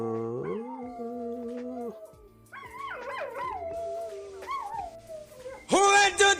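Dog howling indoors, long rising and falling wails near and fairly loud, broken by short yips and whimpers, with a second burst of howling at the end.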